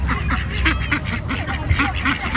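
Geese and ducks being fed: a close, steady chorus of overlapping quacks and short honks rises over constant background noise.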